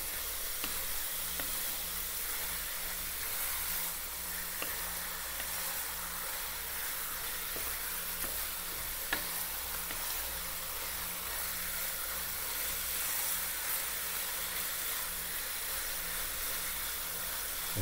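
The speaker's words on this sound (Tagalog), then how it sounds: "Kaya kailangan lang natin i-brown muna dito bago tayo maggisa." Pork tenderloin browning in a hot pan gives off a steady, close sizzle with faint crackles that runs unbroken throughout, with no talking.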